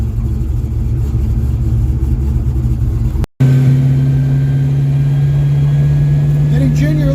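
A 26-year-dormant project car's engine cranks, then catches after a brief dropout and settles into a loud, steady rumbling idle with rising revs toward the end, close to the microphone.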